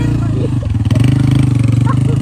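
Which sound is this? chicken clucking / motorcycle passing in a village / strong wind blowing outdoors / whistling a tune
motorcycle passing in a village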